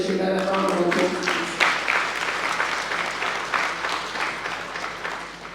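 An audience applauds sponsor Zambia Sugar at a safety and sustainability congress, a dense, steady round of clapping that starts strong and holds for several seconds, with a few voices mixed into the crowd.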